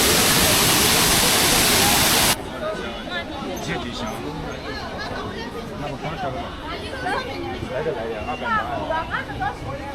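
The roar of the tiered Detian waterfall on the China–Vietnam border comes as a loud, dense rush for the first couple of seconds, then gives way to a crowd chattering over a fainter background of falling water.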